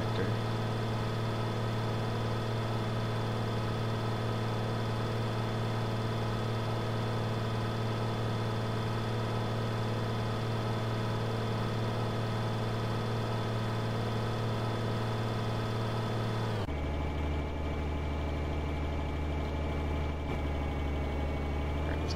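A tractor engine drones at a steady idle in Farming Simulator 2013. The continuous hum holds level throughout and shifts tone slightly partway through. No one talks.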